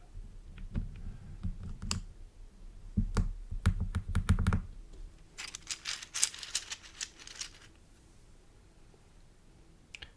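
Computer keyboard keys clicked and tapped in irregular bursts, close and fairly quiet, with clattering handling and a brief louder rattle partway through, no talking.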